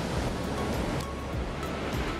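Pacific Ocean surf rolls steadily onto Gold Bluffs Beach, a continuous broadband wash of breaking waves with faint wind, no voices present.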